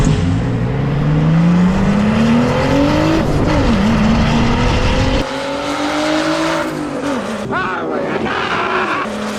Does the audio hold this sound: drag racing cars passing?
yes